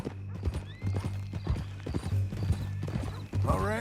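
A horse's hooves clip-clop in a steady rhythm, with a loud neigh near the end and a voice murmuring faintly underneath.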